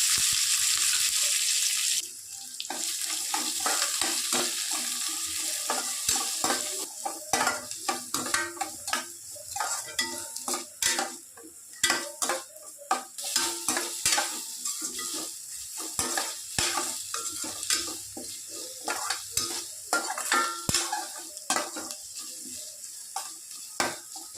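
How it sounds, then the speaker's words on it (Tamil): Mustard seeds, curry leaves and garlic frying in hot oil, a close, loud burst of spattering and popping crackles with a rapid irregular rhythm and occasional clinks of a spoon against the pan. "எண்ணெய் காஞ்சிருச்சு, கடுகு போட்டுக்கலாம். கொஞ்சம் கருவேப்பிலை, 3 பல் பூண்டு போட்டுக்கலாம்."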